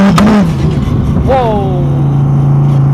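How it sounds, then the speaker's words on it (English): A car accelerates gently in second gear, its engine burbling with a steady tone that briefly rises, heard up close. "First time trying a bit of a gentle acceleration then, so drop it down to second gear"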